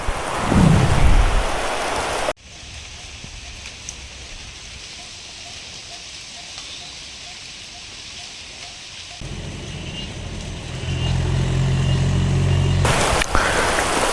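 Heavy rain pours steadily, with thunder rumbling low, heard from inside a vehicle on a road trip from Bengaluru to Kundapura. The rain hiss runs continuously and swells louder near the end.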